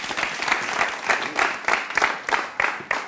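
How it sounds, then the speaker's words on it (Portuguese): Studio audience on the Angolan TV show Hora Quente clapping for the musician Armstrong, a close, brisk applause that swells in rhythmic waves for a few seconds. "Mais aplausos para Armstrong, faz favor!"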